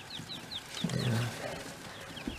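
Young chicks in a farm brooder holding about 150 birds of mixed ages: soft, repeated high peeping calls in a steady run, with a brief low rustle or murmur partway through, fairly faint and with no talk.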